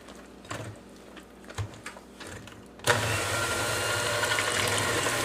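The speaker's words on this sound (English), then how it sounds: "We're going to beat this on low for about 2 to 3 minutes." Electric hand mixer on low speed beating Chamorro cake batter with melted butter, a steady whirring drone that kicks in partway through after some quiet clinks and taps, loud and continuous.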